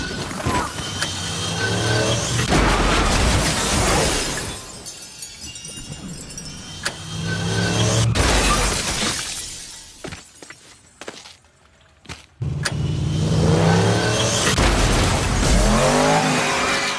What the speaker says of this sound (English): The car crash is one of the best ever put to film.